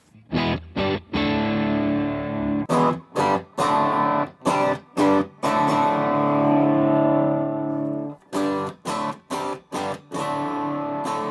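An electric guitar runs through an overdrive pedal into a Fender Hot Rod Deville amp, playing loud distorted chords with sustained ringing stretches broken by short choppy stabs, close and steady.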